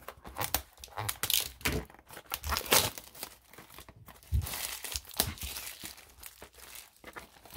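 Plastic wrapper on a 2021-22 Upper Deck Allure hockey hobby box being cut and pulled open, close crinkling, rustling and tearing in irregular bursts with brief pauses, no talk.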